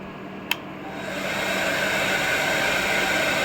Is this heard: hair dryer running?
yes